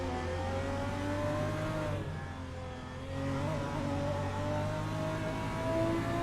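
Racing car engines from a GT4 sim race at Imola, including a BMW, drone and whir at a steady mid volume, holding revs with a slight dip partway through and no voices.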